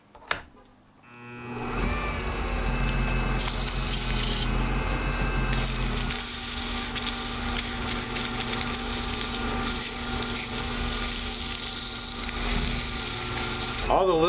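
Steady, continuous rasping of sanding against a hard acrylic duck call, running nearly unbroken for over ten seconds after a brief start.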